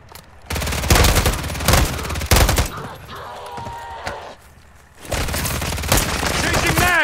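Gunfire in the MW3 Zombies video game: heavy bursts of automatic fire and loud booming shots come in clustered volleys, pausing midway before resuming, with players shouting over the shooting.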